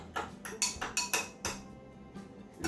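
Honey and lime juice being stirred in a container, giving a series of light clinks and taps about every half second, close and moderately soft, with no one speaking.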